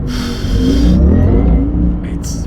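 An 1100-horsepower Porsche accelerates hard on a mountain pass, a loud close engine roar rising in pitch over about a second before the throttle drops off and the note falls away, with faint brief voice sounds near the end.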